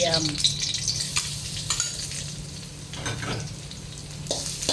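Garlic frying in pork lard for stir-fried long beans with oyster sauce, a loud, dense, continuous sizzle with a few spatula scrapes, close by.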